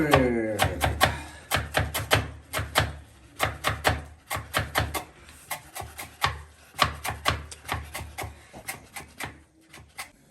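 A knife chops vegetables for kachumber salad on a board in a home kitchen, sounding as crisp, fast taps in clustered bursts with short pauses, close and clear.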